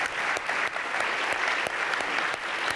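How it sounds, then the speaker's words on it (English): Conference audience applauding at the end of a plenary session on big tech, a sustained even patter of many hands with a few sharper claps standing out. "let's give them a round of applause."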